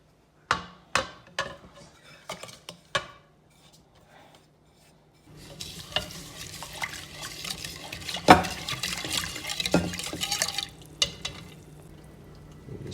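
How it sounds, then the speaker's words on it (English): A whisk clinks against a bowl of garlic powder, paprika and brown sugar marinade, first as several sharp separate taps, then as a continuous rapid scraping and stirring rattle, close and fairly loud. "I'm going to take all this and I'm going to whisk it together"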